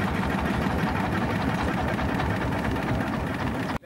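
A motorboat engine on a flooded road, used to ferry motorcycles across the water, runs with a loud, steady, rapid chugging drone close by, then cuts off abruptly at the very end.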